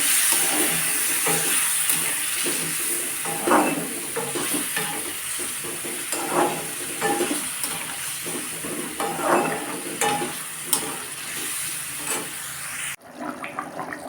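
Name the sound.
frying ginger, cumin and coriander spice paste in pan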